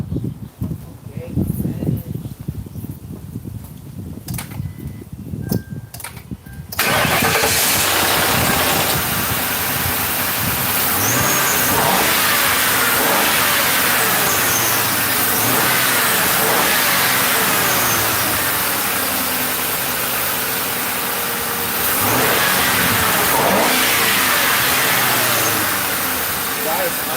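A police-style cop car's engine starts after a quiet stretch and then runs loudly and steadily, with mid-range engine roar and revving swells filling the rest of the clip, close to the microphone.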